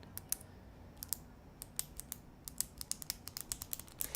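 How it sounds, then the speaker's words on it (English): The S Pen of a Samsung Galaxy Note 5 being clicked in and out of its built-in ejection mechanism, a run of sharp, close plastic clicks repeating irregularly and speeding up, with no talk. "Samsung built in a clicking mechanism in the pen for getting it out."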